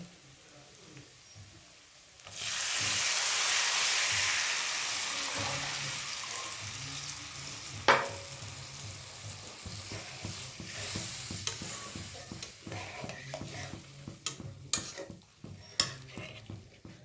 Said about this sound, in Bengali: এবার আমি এই পর্যায়ে জলটা দিয়ে দেব, গরম জল।